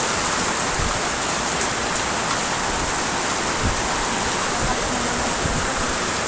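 Heavy typhoon rain pours down in a dense, constant hiss, loud and unbroken, with occasional heavier drops thudding nearby, in Jose Panganiban, Camarines Norte.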